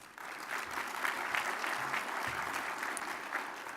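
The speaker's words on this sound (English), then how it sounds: "One more round of applause." A conference audience at a transportation summit opening session claps steadily, a dense even wash of applause filling the room throughout.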